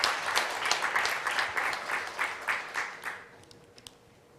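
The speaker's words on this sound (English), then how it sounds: "I'd like to ask everyone to join me in thanking them all with a round of applause." An audience at an academic conference on mind, science and religion gives a round of applause, dense clapping that thins out and fades after about three seconds, leaving a few scattered claps.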